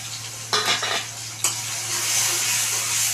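Spices with turmeric, salt and chili powder sizzle loudly in a pan, with two scraping stirs of a utensil over a steady bright frying hiss and a low hum.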